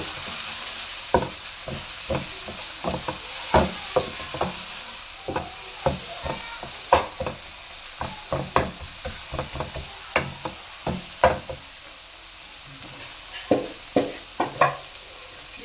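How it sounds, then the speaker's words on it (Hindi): Cumin and a spiced filling of boiled chana dal stirred in a hot pan for stuffed karela, a soft steady sizzle broken by repeated sharp scrapes and taps of a spoon against the pan, no voices. "हुण असीं इस पावांगे, बस इन्हूं मिक्स करांगे"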